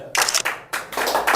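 Applause for Dinesh at a tea business training session: a short burst of clapping from a small group, close and fairly loud, with a brief dip partway through.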